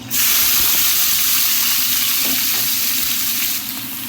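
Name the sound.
shrimp added to hot butter, sizzling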